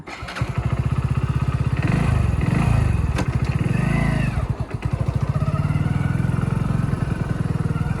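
A Hero Splendor Plus XTEC 2.0 motorcycle engine runs steadily and loudly at close range, its pitch rising and falling as the rider accelerates and shifts, with no voices.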